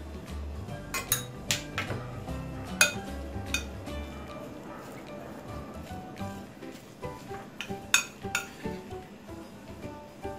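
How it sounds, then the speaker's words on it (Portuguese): A spoon stirs ricotta and tomato filling in a bowl, giving repeated clinks and scrapes of metal against the dish at an uneven rhythm, close and fairly clear. "Vou mexer aqui com a colher, fica mais fácil."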